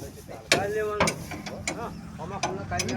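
Mechanical ratcheting and clicking as a belt on a machine is tightened, a few sharp clicks and knocks over a steady low hum, close by with no talk.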